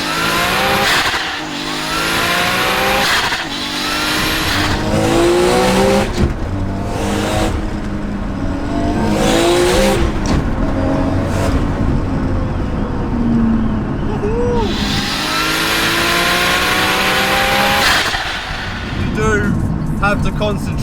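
A JDM sports car does a gentle rolling launch and accelerates hard, its engine rising and falling through the gears with loud, close revving. Someone talks over it.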